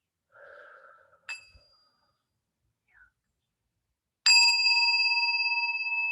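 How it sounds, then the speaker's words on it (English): A meditation bell is struck once, ringing out clear and sustained in a quiet room and slowly decaying, after a few soft breaths and small sounds. "then the next bell is to stand"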